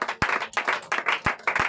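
A church congregation claps in rhythm at the close of a 21-day fasting and prayer programme, loud, sharp, regular beats about every third of a second, close and alone without talk.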